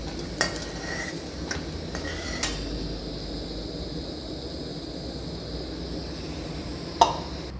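Fried red lentil fritters are lifted out of a wok of oil over a continuous low sizzle, with a few sharp metallic taps of a slotted spoon against the wok, including one louder clink near the end.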